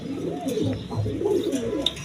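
Colored pigeons kept for sale as breeding pairs with eggs and chicks, cooing in soft, throaty repeated calls close by, with several birds overlapping.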